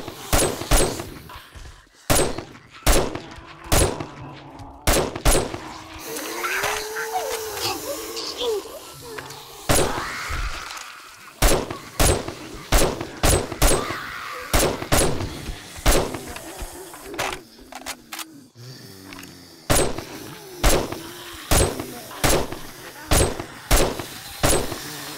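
Sniper rifle shots in the video game 7 Days To Die crack out sharply again and again, about twenty loud reports at irregular intervals, with a voice talking between them and a low hum underneath.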